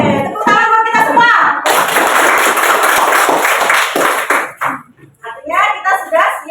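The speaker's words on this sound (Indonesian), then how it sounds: "tepuk tangan buat kita semua" Children in a classroom clap together in a loud burst of hand claps lasting a few seconds, with young voices talking before and after.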